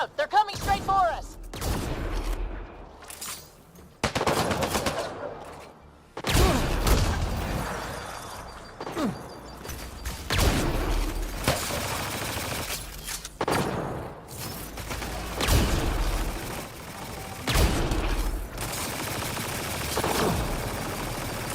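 Heavy turret gunfire in Mass Effect Andromeda pounds out in loud repeated bursts with booming impacts, separated by short lulls, while voices talk over the fighting.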